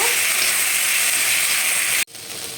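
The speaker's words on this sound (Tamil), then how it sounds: "நல்லா வதக்குங்க." Coriander and mint leaves sautéing in a pan for chutney, a steady close hiss and crackle that cuts off abruptly near the end before a quieter sizzle resumes.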